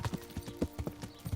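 Horse hooves galloping in the medieval game Kingdom Come: Deliverance, a quick, steady clip-clop rhythm of close, clear hoofbeats with no voices over them.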